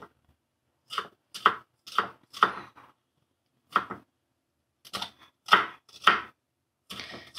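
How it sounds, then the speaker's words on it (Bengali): A knife chops onion on a cutting board in quick bursts of crisp, close strikes, grouped in short runs separated by brief pauses, with no talking. "আর সমস্ত পেঁয়াজটা ভালো করে আমি চপিং করে নিচ্ছি।"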